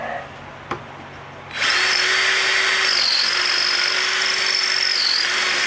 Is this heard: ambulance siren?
no